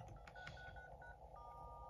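iPhone 12 keypad dial tones sound during a repair test: a quick series of short beeps followed by one longer tone, faint over a low background hum.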